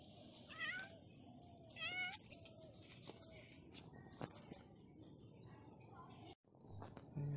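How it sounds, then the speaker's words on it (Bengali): A cat meows several times outdoors in a garden on a late morning, soft and somewhat distant, with faint bird chirps and a quiet voice in the background. "বিড়াল এসে গেছে আবার।"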